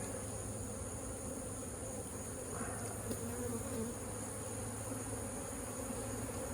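Honey bees being moved into a new hive box hum in a dense, continuous drone, steady and close, with no speech.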